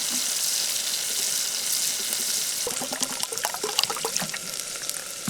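Water is poured into thickened lentil dal cooking over an outdoor campfire, giving a steady, close rush and splash with a few brief spatters and stirring knocks toward the end.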